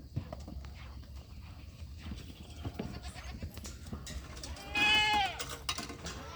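On a farm, baby goats about two to three months old move and shuffle about amid faint scuffling, then a single clear bleat rings out near the end, fairly close but soft.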